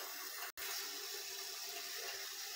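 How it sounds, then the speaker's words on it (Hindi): A small glass of water poured over tamarind in a pot before boiling, for a potato and chickpea chaat: a steady, close splashing pour runs throughout with one brief break. "ये पाव इमली में हम एक गिलास छोटा पानी का डाल देंगे"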